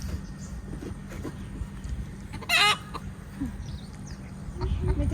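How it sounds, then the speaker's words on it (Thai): A hen clucks at a rural fishing camp: one short, loud burst midway, with faint bird calls and low background noise around it. "แม่ไก่แม่ไก่"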